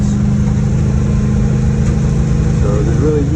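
A car engine holds a steady drone at 3,400 RPM while cruising eastbound on Highway 180, with constant road noise throughout, a faint rising tone toward the end, and a person talking over it.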